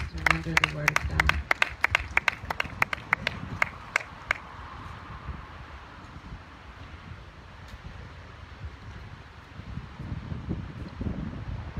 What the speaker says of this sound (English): Give Pastor Christopher Hall a hand clap of encouragement as he comes to render the Word of God.